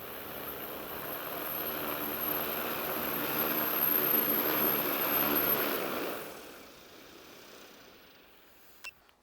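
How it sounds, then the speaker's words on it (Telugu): An X9 agricultural spraying drone hums and buzzes steadily as it hovers. Its whine swells, then fades away as it lands, and a click follows near the end. "డ్రోన్ ల్యాండ్ చేద్దాం మనం."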